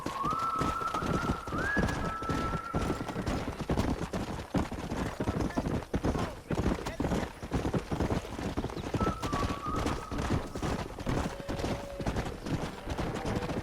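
Horse hoofbeats clip-clop steadily at close range in the Red Dead Redemption game, joined by pigeon-like cooing and a few brief whinny-like tones over a continuous outdoor bed.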